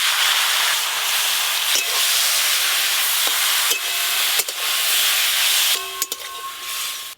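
Pumpkin flowers dropped into a hot wok of oil tempered with whole cumin and dry red chillies, a loud steady sizzle and hiss with a few sharp clicks and scrapes of stirring.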